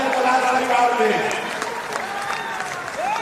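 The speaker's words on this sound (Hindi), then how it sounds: "एक बार इनका जोरदार तालियों से इनका स्वागत कीजिए जनकलाल परिवार में।" An audience in an auditorium in Patna claps steadily to welcome a speaker at a state-level political workshop, a dense, even patter of hands under a voice at a public address.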